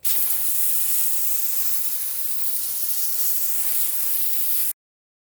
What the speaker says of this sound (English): Next, we're going to use the hose to spray off all the excess.